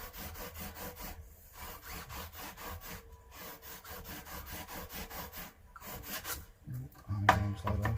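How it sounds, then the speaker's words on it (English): Guitar frets are leveled on a PRS SE Custom 24, a close, quiet, rhythmic rasping rub of repeated back-and-forth strokes, with a few brief pauses and a louder scrape near the end. "I do like this method of doing the leveling of the frets."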